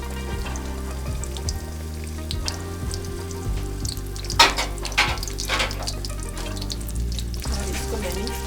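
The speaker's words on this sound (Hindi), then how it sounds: "मैं इसमें अंडा डाल दूँगी और थोड़ी देर वो भूनेंगे।" An egg fries in a pan for coriander rice, giving a soft, steady sizzle under a low background hum, with a brief louder clatter midway.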